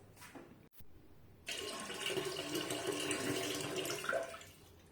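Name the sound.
water poured from an electric kettle into a toilet tank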